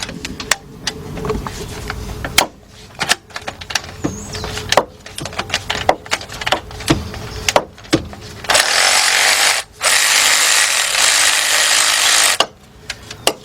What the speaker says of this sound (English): Or you can use a regular ratchet, 3/8 drive.